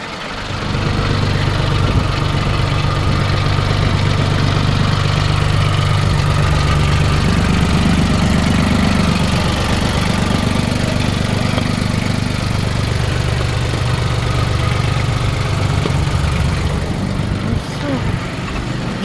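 A Mitsubishi MT221 mini tractor engine runs continuously close by, a loud steady chugging drone that shifts pitch slightly partway through, with someone talking over it.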